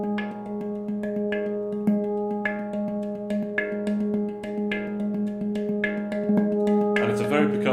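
NovaPans handpan played close up in a steady percussive pattern, Pattern 30, with evenly spaced strikes whose bell-like tones overlap and ring. It grows busier and brighter toward the end.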